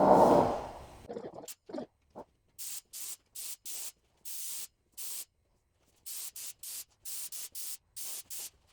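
A spray gun applies clear coat to a BMW E30 body in repeated short, even hissing bursts separated by near silence, after a brief louder rush at the start.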